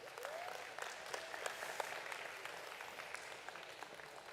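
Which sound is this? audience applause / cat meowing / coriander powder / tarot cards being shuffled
audience applause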